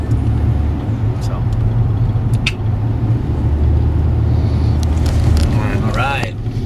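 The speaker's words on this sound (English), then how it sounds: "Still driving, still heading to Kingston" Steady road rumble of a car under way toward Kingston, Jamaica, a loud continuous low drone filling the whole stretch, with a few faint clicks and a voice-like warble near the end.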